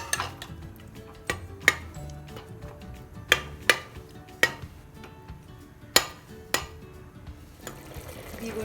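A spoon stirs a curd and minced chicken mixture for galawati kebabs in a metal pan, giving scattered sharp clinks against the pan over quiet soft scraping.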